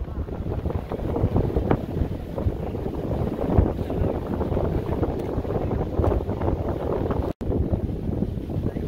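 Engine drone and wind noise on an open tour boat on the Wisconsin Dells with two gasoline-powered engines, a loud steady rumble lasting throughout with one brief dropout near the end.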